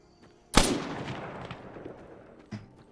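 A single sharp gunshot from an Arma 3 zombie sandbox game cracks out loud and close, its long reverberant tail fading over two seconds before a fainter second shot lands near the end.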